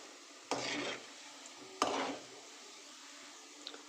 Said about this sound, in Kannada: ಕಂದು ಬಣ್ಣ ಬರೋವರೆಗೂ ಉರಿಬೇಕು ಫ್ರೆಂಡ್ ಎಣ್ಣೆಯಲ್ಲಿ ಫ್ರೈ ಮಾಡ್ಕೋಬೇಕು